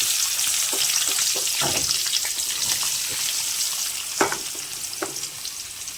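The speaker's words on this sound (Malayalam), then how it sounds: "അരിഞ്ഞു വെച്ചിരിക്കുന്ന സബോള ഇതിലോട്ട് ഇടാം" Sliced onions frying in hot oil in a pan for a Kerala-style chicken curry, a steady hissing crackle up close with a few sharp spatula knocks, loud and unbroken, nobody speaking.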